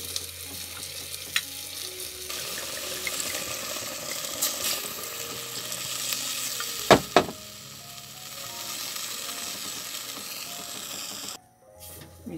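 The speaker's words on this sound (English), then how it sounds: "Okay, so it's bubbling away merrily in there." Beef bourguignon stew simmers in a pot, giving a steady, close bubbling and sizzling with a few sharper pops and clinks partway through.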